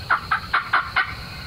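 Wild turkeys gobble outdoors in five quick, evenly spaced rattling calls, clear and moderately near, over a faint steady background hiss.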